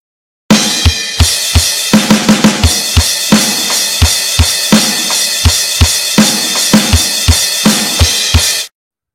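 Close, loud acoustic drum kit groove: a steady kick and snare pattern with quick fills, under a bright crash cymbal that rings continuously, with no talking.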